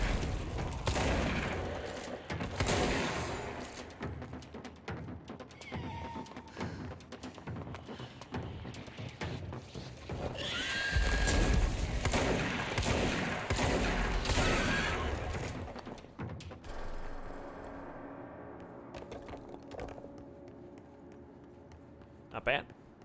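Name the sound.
shotgun firing in a video game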